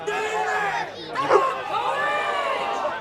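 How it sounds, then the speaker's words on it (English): A rugby union crowd at an Old Collegians versus Burnside match roars and urges the home side on, a dense swell of cheering and shouting that peaks midway, with a voice talking over it. "As the crowd rallies here, the Collegians crowd just willing them on."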